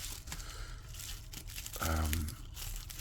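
Crinkling and tearing of a wrapped package of old-school trading cards being opened, soft plastic rustle with a brief louder rip, fairly quiet and close.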